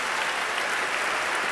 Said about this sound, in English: Also applauding in the audience